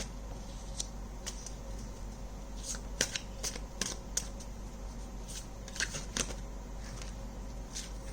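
Tarot cards are shuffled and drawn in a quiet room, making faint, scattered papery flicks and soft clicks that come in loose clusters over a low steady background hum, with no speech.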